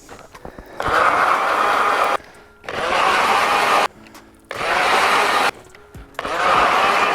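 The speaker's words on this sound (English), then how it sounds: "This auger has been awesome." Ice auger bores a hole through lake ice while fishing for walleye, four loud sustained bursts of motorized whirring, each roughly a second and a half long, separated by short pauses of near quiet.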